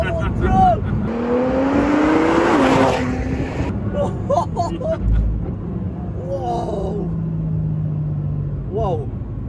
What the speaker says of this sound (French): première accélération en Ford GT